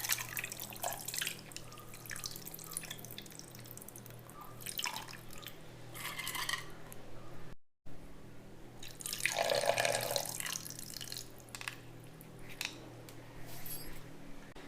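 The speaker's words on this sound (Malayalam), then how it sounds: "നമുക്ക് ആദ്യം പുളി ഒഴിച്ച് കൊടുക്കാം" Squeezed tamarind water poured into a pan of sardine (mathi) fish curry, with drips and a splash of liquid that peaks briefly near the middle, fairly quiet and close, with no talking.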